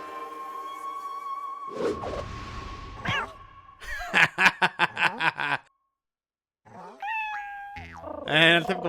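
Cartoonish cat meows and chirps from the video game Okami arrive in quick bursts of short rising calls, broken by a brief silence and then further squeaky cries over a soft hum.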